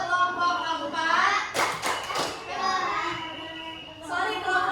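Children in a classroom doing a rhythmic class clap routine, a short burst of many hands clapping together in the middle, surrounded by voices chanting and talking.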